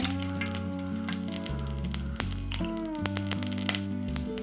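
Dried red chillies frying in a generous amount of oil in an unwashed wok make a continuous sizzle with light rattles and scrapes, close up, and nobody speaks over it.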